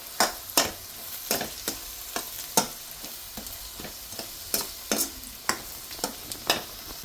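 A spoon stirs a chili powder mixture in a sizzling pan, its scrapes and knocks landing in a quick, uneven rhythm over a soft, continuous frying hiss, with no voices.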